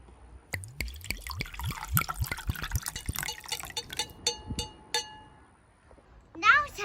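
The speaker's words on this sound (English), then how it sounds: "Now I'm going to put hydrogen peroxide." Hydrogen peroxide is poured into jars for an elephant toothpaste experiment, giving a series of close splashes, drips and glassy clinks with brief gaps between them.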